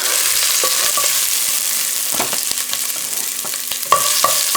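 Crushed ginger and garlic are stirred in a hot pan, where a close spatula scrapes and knocks repeatedly over a constant frying sizzle.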